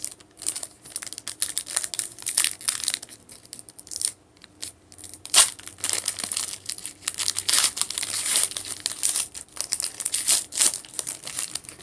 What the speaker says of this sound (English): So I'm going to open them up.